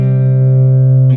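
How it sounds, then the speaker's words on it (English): A single sustained C5 guitar power chord rings out steadily, loud and clean, then cuts off abruptly at the end. "you could always do the C5."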